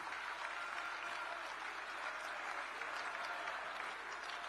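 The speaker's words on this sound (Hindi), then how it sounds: "इसके लिए हम सभी एक बार तालियां बजाकर अपने प्रधानमंत्री मोदी जी का अभिनंदन करें।" Continuous crowd applause for Prime Minister Modi at a BJP national convention in Delhi: a thick, even roar of many people clapping together, held steadily throughout at a modest level.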